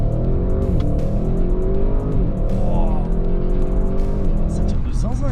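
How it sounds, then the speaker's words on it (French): An Audi RS6 engine roars hard under full launch-control acceleration, rising in pitch through several gear shifts, loud and close, with people talking in French over it. "Est-ce que d'entrée on peut essayer de voir un launch control?"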